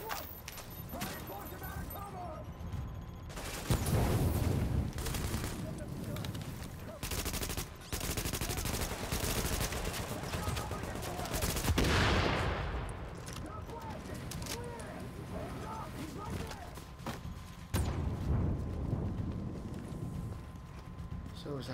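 Rapid turret gunfire bursts in The Division, loud and sustained across the scene with brief pauses, layered with other game sounds.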